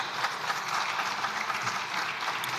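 Steady applause from a parliamentary chamber, dense and continuous clapping at moderate distance with no speech over it.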